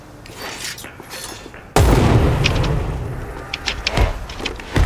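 A sudden loud grenade blast in Dead Island 2 hits partway through, followed by sustained rumbling noise and scattered crackling bursts, like a game explosion.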